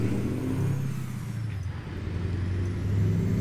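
A 1978 Mack ENDDT865 truck engine of 285 hp drones steadily at low pitch in American Truck Simulator, holding a loud, even rumble with no speech over it.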